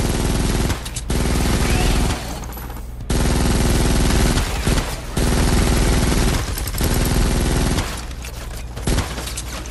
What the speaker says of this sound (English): I can't do nothing but just sit up here and shoot.